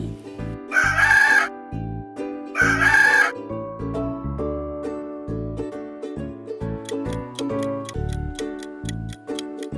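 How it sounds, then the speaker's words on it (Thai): Two loud rooster crows, one after the other, set over a steady ticking, tinkly music backing that carries on after the crowing ends. "เสียงของไก่ตัวผู้นั่นเอง"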